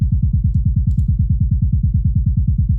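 Kick drum sub bass layer after EQ and sidechain volume shaping: a deep, rounded, rapidly pumping low thump in a steady loud pulse, with faint scattered ticks above, alone.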